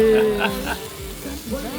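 Pork sizzling on a Thai mookata grill at a restaurant in Bangkok, a steady close hiss of frying meat with voices talking over it.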